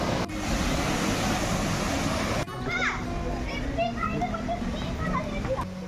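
Gundichaghagi waterfall in Keonjhar district, Odisha, roars as a steady, broad wash of rushing water, with children and other people talking and calling over it throughout.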